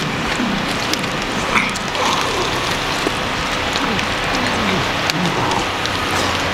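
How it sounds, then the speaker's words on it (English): A generator runs behind the house during a power outage, making a steady, even broadband rush of noise that holds without a break throughout. It is loud and constant, with faint incidental sounds above it. "that's the sound of the generator behind us because the power is out"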